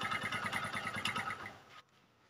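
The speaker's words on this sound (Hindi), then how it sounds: "मैंने बाइक को स्टार्ट किया तो फर्स्ट किक पे बाइक जो है स्टार्ट हो गई है।" A Honda CD 70 motorcycle engine, just kick-started after a piston ring and valve rebuild, runs with a steady close-up putter of rapid regular firing pulses, then cuts off abruptly near the end, leaving quiet.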